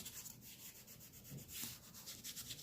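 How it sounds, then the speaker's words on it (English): A brush rubs over the edges of a paper envelope while scraps are being decorated in a vintage grungy style. The scratchy strokes are soft and steady, with no speech. "where I'm just rubbing over the edges"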